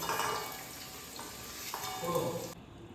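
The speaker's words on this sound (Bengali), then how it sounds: "ক্যাপসিকামটা হাই ফ্লেমে ভেজে নিলাম" Capsicum frying in oil over a high flame for a vegetarian capsicum paneer dish: a steady, close sizzle and crackle that runs for most of the clip, then cuts off abruptly near the end.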